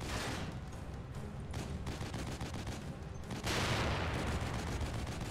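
Rapid gunfire rakes a bus in the video game The Evil Within, a dense, continuous barrage of loud shots that swells even heavier toward the end.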